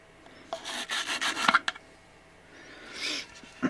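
Short bursts of rough scrubbing against an old wooden .22 rifle stock, a few strokes close up, followed by a pause and another brief scrub.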